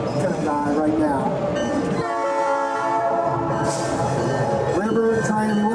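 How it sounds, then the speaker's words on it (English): A passing train sounds its horn in long sustained blasts, loud and near, with the rumble of rail cars underneath and faint voices in the background. "we have a train coming by right now."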